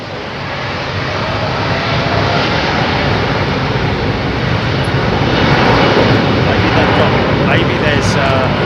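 Jet airliners arriving at London Heathrow Airport in the evening, a loud continuous engine roar that builds steadily and holds, heard close by.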